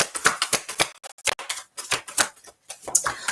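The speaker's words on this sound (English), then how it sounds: "Let me just pull a card for you again." Tarot cards being handled and pulled from a deck during a live reading, a quick irregular run of crisp snaps and clicks, close and fairly loud, with no talk.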